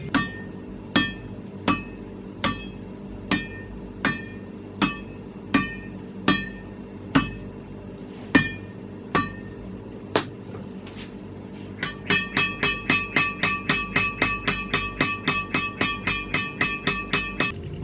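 RS Enduro 61 badminton strings at 28 pounds on a Power Max Tornado 800 racket, tapped with evenly spaced bright pings that give way to a fast rapid series of taps, close and alone.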